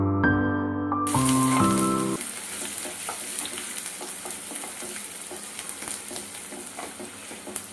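Chopped onions sauté in a hot pan, a soft crackling sizzle with scattered pops and stirring, faint and continuous after a brief burst of music at the start.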